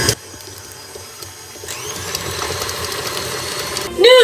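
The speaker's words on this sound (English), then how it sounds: "now we're using the paddle attachment to cream together the salt and" A stand mixer running with its paddle attachment, creaming butter and salt: a steady motor whir with faint rhythmic churning that builds slightly in intensity, and a brief louder mechanical whine near the end.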